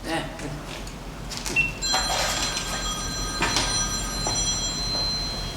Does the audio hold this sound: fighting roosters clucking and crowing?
no